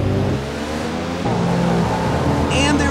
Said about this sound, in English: The cars are screaming past the starting line.